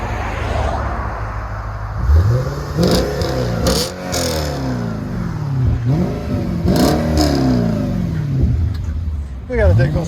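A 2007 Audi RS4 with a 4.2L V8 and dual exhaust, resonator deleted, is revved repeatedly up close, each blip rising and falling in a rough burbling sweep, with voices in the background.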